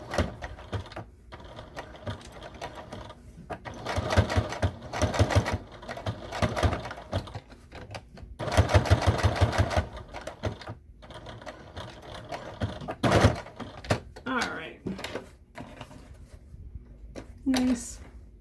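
A sewing machine stitches fanny pack fabric in short bursts of rapid mechanical whirring separated by pauses, with handling noises and some speech in between.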